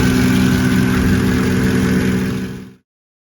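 A Mercedes ML55 AMG engine runs at a steady idle while warming up to temperature, a loud close droning rumble that holds evenly and then fades away in the last second before silence.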